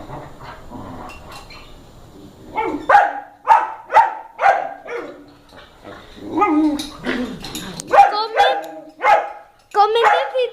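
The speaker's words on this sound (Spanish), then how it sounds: "Comenten si tienen un perro así de goroso como este." Excitable, unruly pet dog barking indoors, a rapid series of sharp close barks in bursts with short yips between them and a person's voice heard early on.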